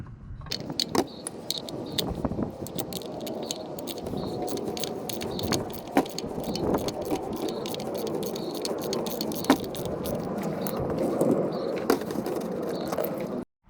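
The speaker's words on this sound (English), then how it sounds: "now I'm going to be removing the oil filter with my cup type oil filter wrench. I'm going to be unscrewing it." A cup-type oil filter wrench works the oil filter loose on a 2015 Toyota Camry Hybrid, giving steady close metallic rattling, scraping and clinking with occasional sharper knocks.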